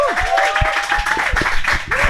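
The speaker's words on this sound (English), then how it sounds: "So round of applause again, everybody," Audience at a SpeakuP Monday talk event in Indonesia giving a round of applause, a dense, sustained wash of clapping from a crowd indoors, with a voice speaking over it.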